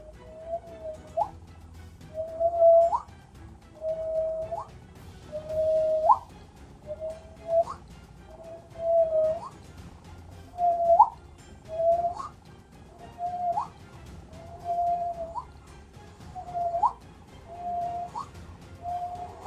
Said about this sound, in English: We want to whistle for about 20 seconds.